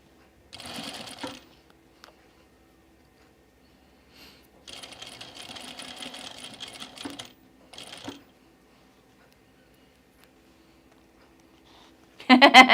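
A sewing machine runs in short bursts while topstitching a dress, with a brief run near the start, a longer steady stretch in the middle, and a loud final burst, separated by quiet pauses.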